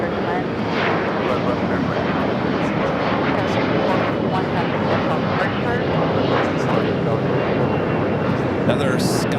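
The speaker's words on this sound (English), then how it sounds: "Another Sky West American Eagle. E-Jet taking off." A SkyWest American Eagle E-Jet takes off at Los Angeles International Airport, a loud continuous jet engine roar filling the scene without pause, with a person speaking over it.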